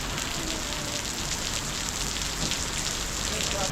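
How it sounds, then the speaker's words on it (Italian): Heavy rain pouring down in Krabi, Thailand, a dense continuous hiss of drops drumming on surfaces, steady and close throughout. "continua a piovere"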